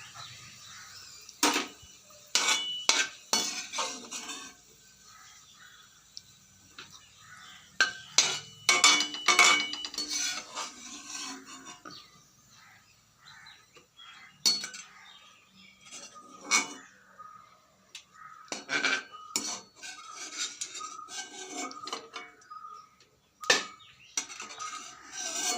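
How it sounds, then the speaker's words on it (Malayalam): Grated coconut roasting in a pan is stirred in uneven bursts of scraping and clinking, with quiet pauses between strokes. "അപ്പോൾ ഞാൻ തേങ്ങ വറക്കുന്നുണ്ട്."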